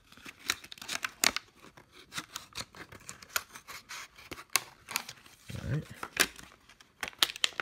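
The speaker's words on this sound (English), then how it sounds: "plastic is really putting up a fight on this knife" A dull, low-grade steel Ozark Trail knife cuts and saws at stubborn plastic packaging, making irregular crinkling, snapping and scraping bursts close to the microphone while someone says a few words.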